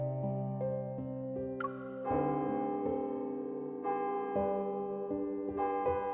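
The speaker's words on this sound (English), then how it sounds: "The bell rings, and the people below suddenly perk up." A bell rings in the Love and Deepspace video game, several clear struck tones with long ringing sustain, layered over soft game music and heard on its own.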